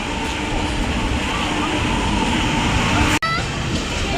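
Train arriving at Kundapura railway station, a loud, steady rumble of wheels and carriages, with a brief sharp break near the end.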